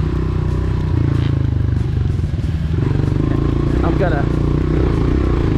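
A dirt bike engine on a track holds a steady, close, buzzing drone throughout, while someone talks over it briefly.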